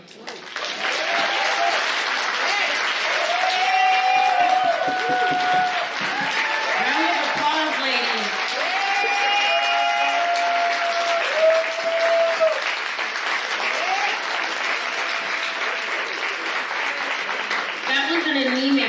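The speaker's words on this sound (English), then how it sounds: "Round of applause." An audience at the Haitian Ladies Weekend 2019 applauds after a keynote speech. The clapping is dense and steady and lasts the whole stretch, with cheering and scattered voices rising above it.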